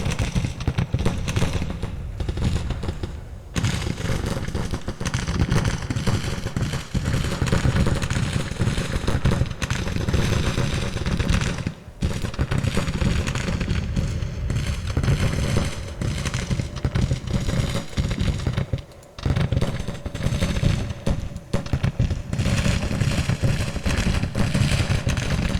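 Continuous Civil War battle din from the Grand Tactician strategy game, dense crackling rifle volleys and booming artillery blasts rolling on without pause for the whole stretch, loud and crowded.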